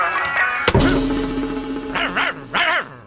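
A dog barks in a Telugu comedy film scene: a sudden thump and a drawn-out whining tone, then two short, bright bursts of yelping barks close by.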